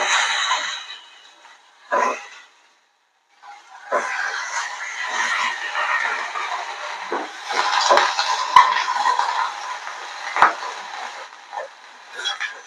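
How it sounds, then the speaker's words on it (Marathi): Eggplant pieces soaked in salt water fry in hot oil in a pan. Soft, steady sizzling runs throughout, broken by a few short gaps and by clinks of a utensil against the pan. "वांगे आपले छान परतत आहेत"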